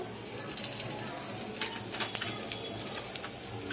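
Dried red chillies and asafoetida crackling in hot oil while a Kathiyawadi khichdi tempering is prepared, a steady close sizzle with scattered brighter pops throughout.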